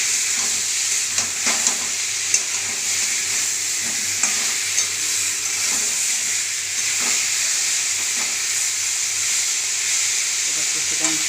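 A paste of onion, tomato, chili, ginger and garlic sizzles steadily with potatoes in a pan for a potato-and-egg curry, with a constant hiss and occasional stirring scrapes close by.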